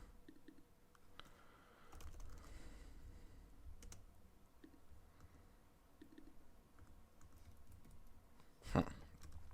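Computer keyboard typing at a desk, a soft run of light key clicks with a louder clack near the end, fairly close and quiet, no voices.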